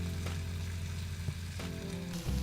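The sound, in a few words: meat frying in barbecue sauce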